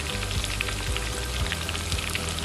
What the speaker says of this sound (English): So while my onion is frying, I'll add my garlic and ginger paste.